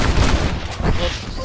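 Gunfire in the Red Dead Redemption game comes as dense, booming bursts of shots that crowd together into a loud fusillade, with a voice partly heard beneath it.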